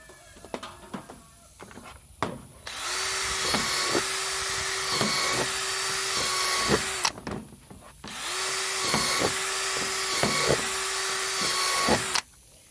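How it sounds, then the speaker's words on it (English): A power drill whines steadily in two long bursts, drilling holes in a garden water feature container, close and loud, with short pauses and small clicks and knocks between them. "Now we'll drill the rest of our holes."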